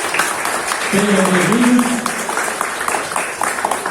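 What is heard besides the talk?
church congregation applause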